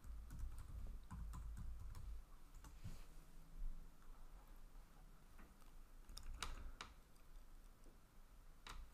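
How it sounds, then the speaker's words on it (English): Computer keyboard typing, a run of quiet, irregular key clicks and taps heard close and faint, with no voices. "You can get details of your system by typing in the Systeminfo command."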